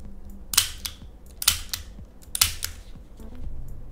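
Toy Colt Python revolver with a metal build and plastic ammunition, its double-action trigger and rotating cylinder giving three sharp, close mechanical snaps at even intervals, with faint softer clicks between.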